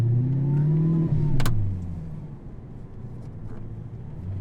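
Audi R8 engine while the driver shifts gears, forgetting to use the clutch: a steady mid-pitched drone that dips and changes pitch during the shift, then settles into a lower hum inside the car.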